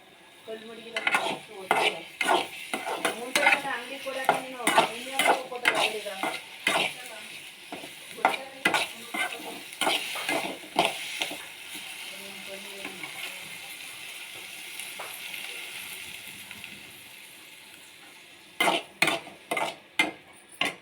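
Ajwain spice powder and cashews fry lightly in a hot pan for a paneer curry, with a low sizzle under repeated sharp metal spoon taps and scrapes against the pan, in irregular bursts separated by quieter stretches.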